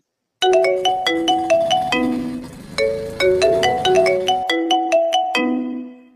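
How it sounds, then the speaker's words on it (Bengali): A phone ringing in a Bangla cartoon, a melodic electronic ringtone repeating its bright note pattern steadily and loudly for several seconds after a short silence. "বাসায় এসে মৌসুমি দুঃখীর বাবাকে ফোন দেয়"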